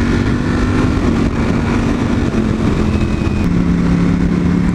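A motorcycle engine, likely running on thick 250-section rear tyres, drones loudly and steadily throughout, its pitch stepping down as the rider works through the gears with the throttle open.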